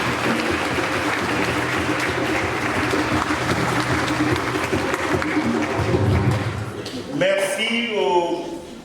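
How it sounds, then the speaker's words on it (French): A congregation in a church in Massy applauds newly baptized young people after a Mass, with sustained, dense clapping that fills the room for several seconds, then fades as a voice begins speaking over a microphone. "On les applaudit."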